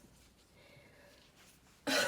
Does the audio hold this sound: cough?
yes